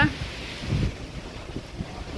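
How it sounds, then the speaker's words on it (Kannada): Strong wind buffets the microphone outdoors in a low, rumbling roar with gusty surges throughout, loudest at the start. "ಎಷ್ಟು ಜೋರ್ ಗಾಳಿ ರೀ ಅಷ್ಟು ಜೋರ್ ಗಾಳಿ"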